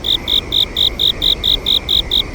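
A cricket sound effect gives evenly spaced, pulsing chirps, about five per second, steady and loud, with no other sounds.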